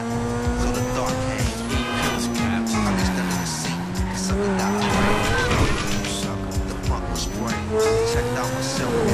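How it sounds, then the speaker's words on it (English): A car drives in Grand Theft Auto V, with its engine revving and falling as the tires squeal and skid repeatedly, all loud and continuous. "go ahead and drive this car that you're in"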